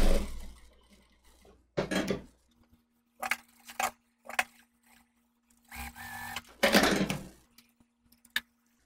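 A sewing machine stitches bias binding onto the finish of a ruffled chemise dress, running in short close bursts separated by pauses, with a faint steady hum beneath.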